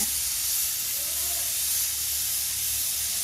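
A pressure cooker with a mismatched lid hisses steam while boiling sweet potatoes in a home kitchen, a loud, steady, continuous spray of hiss lasting throughout without a whistle.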